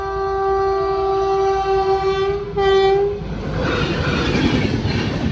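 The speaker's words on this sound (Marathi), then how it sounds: "फायनली 10 मिनटं वेट केल्यानंतर रेल्वे आलेली आहे" A loud, sustained train horn blares twice, then gives way to the rumbling clatter of a train rolling past close by at a railway level crossing.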